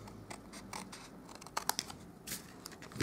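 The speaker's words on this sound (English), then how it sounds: "I'm just going to trim off the side of that one" Scissors snip through card stock in a run of short, crisp cuts with a few louder closing snaps near the end, close up and alone, while paper is crafted into a greeting card.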